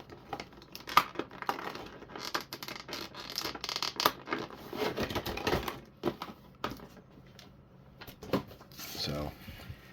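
A Jada Toys Evil Ryu action figure is pulled from tight premium packaging, with scratchy plastic crinkles, tearing and rapid clicking bursts in irregular clusters, quiet and close, under a speaking voice.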